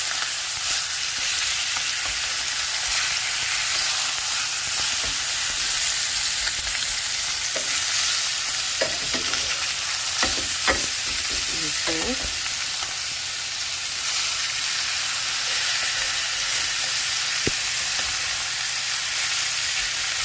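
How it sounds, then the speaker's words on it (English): Chicken browning in a frying pan gives a steady, close sizzle that carries for the full length, with a short run of scraping and clatter partway through as the pieces are flipped. "We'll let that brown for several minutes, give it a flip, and then remove it from the pan."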